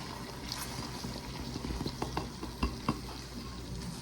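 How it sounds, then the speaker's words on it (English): Baking soda stirred into hot sugar syrup for sponge candy, foaming up with a bubbling fizz, punctuated by stirring scrapes and a few clunks against the pot. "Then the baking soda, it is going to foam up."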